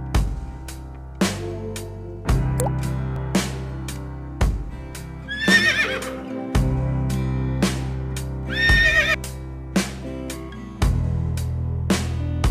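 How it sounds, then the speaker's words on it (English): A horse neighs twice, in clear whinnying bursts near the middle and again later, set against steady rhythmic background music with no talking. "horse."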